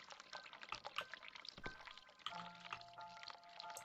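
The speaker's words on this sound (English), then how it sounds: "I hear the water running, I must hurry." Water running from a tap in the video game The Cat Lady, a faint, continuous pouring and splashing stream heard on its own.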